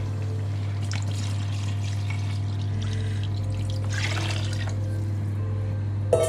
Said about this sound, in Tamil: 7 டம்ளர் தண்ணி ஆட் பண்ணுறேன்.